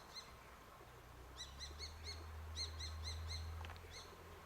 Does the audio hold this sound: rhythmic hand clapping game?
no